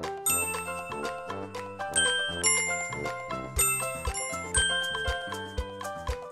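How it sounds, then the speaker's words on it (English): Bright chiming notes from glowing jewels in the Dora Click & Create Star Mountain game play a melodic tune, a steady sequence of bell-like tones over soft musical backing. "Watch each jewel light up as it plays its note."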